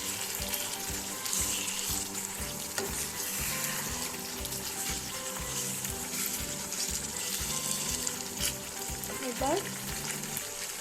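Chicken vindaloo meat frying in its released oil in a home kitchen, a steady dense sizzle running the whole time with faint clinks and a brief spoken word.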